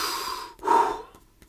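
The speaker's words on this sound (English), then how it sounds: "Breathe in, breathe out." One person breathing deeply during a calming tapping exercise, a long audible inhale followed by a stronger, louder exhale, close and alone with no talking.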